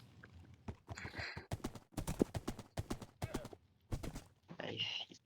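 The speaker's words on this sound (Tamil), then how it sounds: "ஓகே, நான் குதிரை எடுத்துக்கிறேன்" Horse hooves clip-clopping in the Minecraft video game, a series of sharp, evenly spaced thuds close by, heard alongside people talking.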